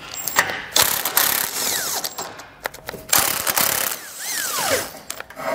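A hand ratchet fitted with a 14 mm socket clicks in quick uneven bursts close by, loosening bolts on the bumper beam of a 2018 Subaru Outback Wagon, with short pauses and metallic clinks between strokes.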